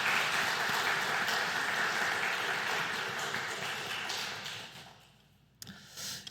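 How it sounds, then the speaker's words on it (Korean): A church congregation applauds to welcome visiting guests during a Wednesday worship service, a dense, sustained roomful of clapping that fades out toward the end, followed by a few scattered claps. "우리 환영하는 박수 한번 하도록 하겠습니다"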